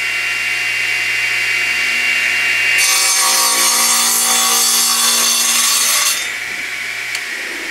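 A laminated woodturning blank is trimmed with a power saw, a loud steady cutting whine that starts abruptly about three seconds in, runs continuously for a few seconds, then stops, leaving a low machine hum.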